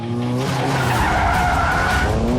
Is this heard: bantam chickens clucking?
no